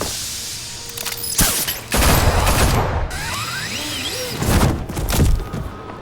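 Bursts of gunfire aimed at Batman in a Telltale Batman video game, loud rattling volleys with impacts and debris, punctuated by sharp whooshing and crashing effects across several seconds.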